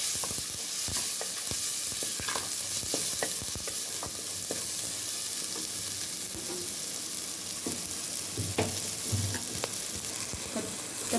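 Spices and brinjal sautéing in oil for a dried fish curry, a steady close sizzle with stirring scrapes and clicks running throughout, no talk.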